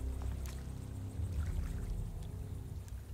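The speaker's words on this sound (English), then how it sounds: "I don't like the sounds of the water" Murky water sloshing and trickling in a bayou in the video game Alone in the Dark, a continuous low, muffled churn with faint splashes, heard alone without speech.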